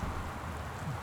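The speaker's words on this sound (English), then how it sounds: "the sound of the rain outside is" Rain falling outside a porch at night in the video game Gone Home: a steady, loud, even wash of rainfall with a low rumble underneath, no voices, lasting about a second.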